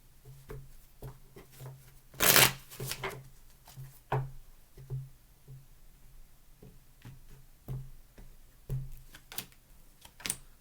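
Tarot cards shuffled by hand, a sparse run of soft riffles and taps with one loud burst of rapid card flutter near the start, then scattered light clicks in a quiet room.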